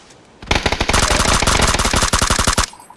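Automatic gunfire in a multiplayer shooter game, a loud rapid burst of many close shots lasting about two seconds before cutting off, with no speech over it.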